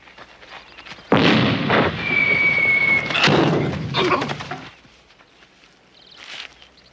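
A cannon fires during a war game in Magnum P.I., giving a sudden heavy boom with a rumbling tail, followed by further thuds and bursts that fade into quiet.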